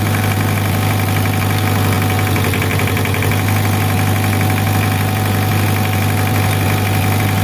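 A Hitachi EX60 backhoe engine with a Bd30 injection pump problem runs loud and close at a steady idle, with a deep constant drone and rough knocking vibration.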